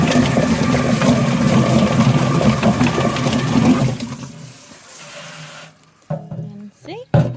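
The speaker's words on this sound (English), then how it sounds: "Now he's going to put it into our plucker." A chicken plucker machine spins a meat bird while water sprays over it, making a loud, steady churning wash for about four seconds before fading to a low hum, with a person talking nearby.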